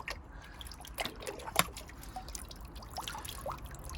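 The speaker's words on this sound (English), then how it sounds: "Okay, so with water in there, it's just dripping." Water drips and trickles inside the air filter housing of a Land Rover Freelander 2, a few small drops and light liquid splashes close by against a steady background hiss.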